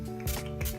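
Makeup setting spray misted over powder, two short soft hissing bursts close by with no talking.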